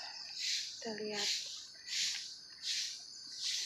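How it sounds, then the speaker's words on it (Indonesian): Birds chirp in repeating high bursts roughly every second, with a brief lower call partway through, set against a faint outdoor background. "biasanya ada suara burung-burung, suara jangkrik juga ada"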